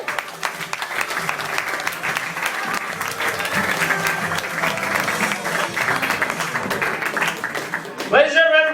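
Audience applause for a comedian at the Rhino Room comedy club: loud, sustained clapping and cheering from a full room, ending with a voice cutting in at the close.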